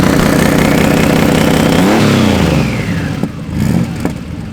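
Modified turbocharged Porsche 911 SC engine held on launch control, loud close revving that climbs and then drops off into bursts, with no talk.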